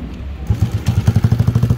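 A Honda Pop 132i four-valve motorcycle engine cranks and catches, settling into a close, loud, rhythmic idle with regular pulsing firing beats.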